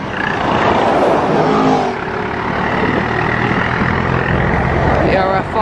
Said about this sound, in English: The ERF fire truck.